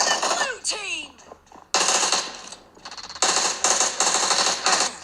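Rapid bursts of automatic gunfire from PUBG Mobile played on a Honor 400 phone, loud and sharp, separated by short pauses, with a few sweeping effects at the start.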